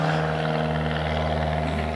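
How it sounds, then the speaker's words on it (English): An airplane passes overhead, a steady low engine drone with strong tonal hum, loud and continuous for the whole stretch with no talking. "let me wait for the airplane to go by"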